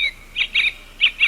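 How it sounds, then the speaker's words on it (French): A bird cries out in a series of sharp, high chirps, two quick calls followed by a pause and then two more, loud and close with no voices. "Ce oiseau-là, là, quand j'entends crier, il me tombe sur les nerfs."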